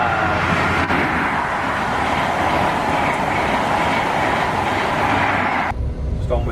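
A train passes close by with a loud, steady rumble and clatter of wheels on the rails that fills most of the stretch, then cuts off abruptly near the end.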